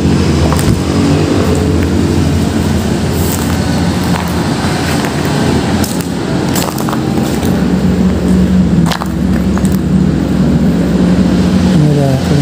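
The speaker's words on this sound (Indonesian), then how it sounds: "suara akan tertutup dengan bisingnya kendaraan ini" Continuous loud roar of passing road traffic outside an abandoned, derelict mall, engines and tyres rumbling steadily with a few sharper vehicle passes standing out.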